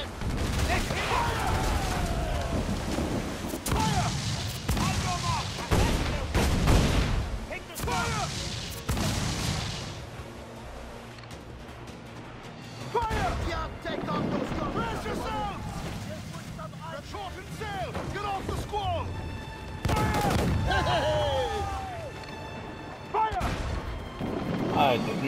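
Naval cannon fire in a sea battle in the video game Assassin's Creed Freedom Cry, repeated booming broadside volleys over wind, waves and ship noise, with shouted crew voices in between.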